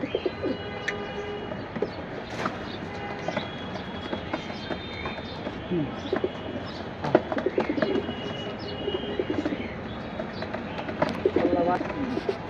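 Deep blue Jabra Pankhi pigeons coo in a collection, soft repeated throaty calls mixed with fluttering and murmuring voices in the background.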